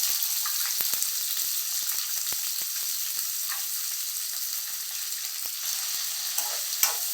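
Small shallots frying in a pan for a bottle gourd chutney, giving a continuous bright hiss with scattered crackles and a few sharp spoon scrapes, close up and steady, with no voices.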